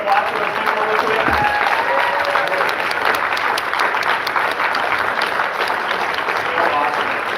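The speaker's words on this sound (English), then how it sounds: "Can you give a big round of applause for those people real quick?" Loud, continuous audience applause fills a live coaching event, a dense wash of clapping with scattered cheers from the crowd throughout.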